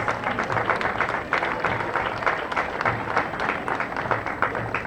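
Along a parade route honoring city police in Plattsburgh, spectators clap in a moderate, uneven patter with some louder bursts, continuing throughout at middling distance.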